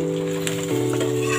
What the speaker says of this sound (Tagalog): Kayaan mo lang siyang maprito.